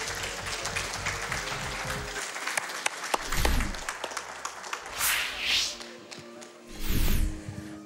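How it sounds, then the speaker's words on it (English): Audience applause fills a speedrun marathon event hall after a Perfect Dark run at Summer Games Done Quick 2022, a steady loud roar of clapping with swells and a few whoops throughout. "Can we get one more round of applause, please, for that excellent run?"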